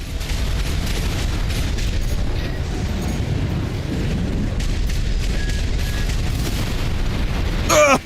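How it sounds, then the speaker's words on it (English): Missile barrages exploding in Armored Core 6, a constant loud rumbling wall of blasts and booms, ending in a sharp burst at the close. "Look at all those missiles"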